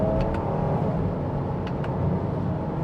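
A 2025 Jeep Grand Cherokee Limited with a V6 pulls hard in second gear, giving a short, loud, rumbling engine surge with no talking.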